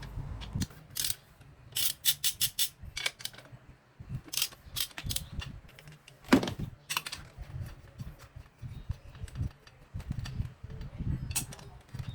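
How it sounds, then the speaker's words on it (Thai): A ratchet wrench with a 12 mm socket works on a car's fuel injector, giving repeated close, sharp clicking runs in quick bursts separated by brief pauses, with a few heavier metallic knocks. "ใช้บล็อกเบอร์ 12"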